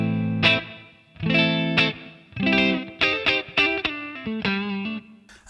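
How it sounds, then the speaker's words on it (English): A clean electric guitar runs through a TC Electronic Hall of Fame reverb set to a light room sound, with no overdrive engaged. Separate strummed chords and picked notes ring out and decay with a soft, short tail. "here's my clean sound with the Hall of Fame reverb."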